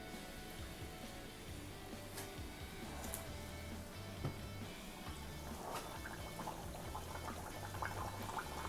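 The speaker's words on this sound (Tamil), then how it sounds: "இப்போ அந்த பூரியை வந்து நம்ம அதில் போட்டு பொரிச்சு எடுத்துடலாம்." Spinach poori sizzling as it fries in hot oil, a steady bubbling hiss with soft crackles throughout, close and moderately loud, no talking.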